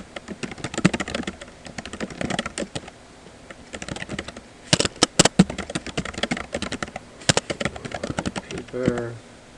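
Rapid typing on a computer keyboard, bursts of clattering keystrokes with short pauses and a few louder key hits, close and clear.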